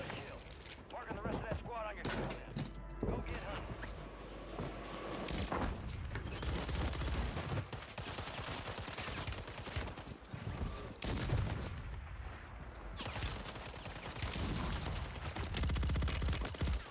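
A shooter video game fires a Kar98 rifle alongside heavy gunfire: dense bursts, rapid shots and booms from several directions, with a voice talking over the action.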